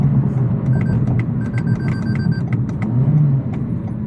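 A 2023 Toyota Camry SE in manual mode gives a steady, loud engine hum heard from inside the cabin with a brief rising rev, along with faint clicking ticks.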